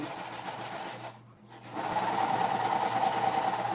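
A sewing machine stitches puff quilt blocks for a pillowcase, a steady close whirring hum that pauses briefly and then resumes louder and faster.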